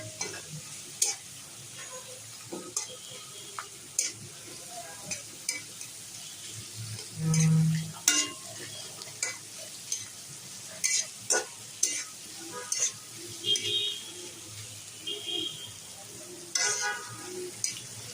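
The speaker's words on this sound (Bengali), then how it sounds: "এখন একটু নাড়াচাড়া করে নেব।" Goat meat with coriander powder and spices being stirred in a frying pan: soft sizzling under intermittent scrapes and knocks of a spoon against the pan, close and fairly quiet.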